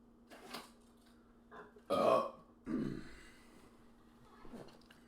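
Several burps after drinking coffee, a short one followed by two louder, longer belches close to the mic, with quiet pauses between them and a faint hum underneath.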